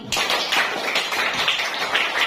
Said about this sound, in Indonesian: Tepuk tangan untuk kita semua sudah selesai melaksanakan pembelajaran hari ini.